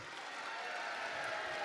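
Applause greeting a singer at a live televised event in Ollolai, a steady quiet wash of clapping from a crowd lasting under two seconds.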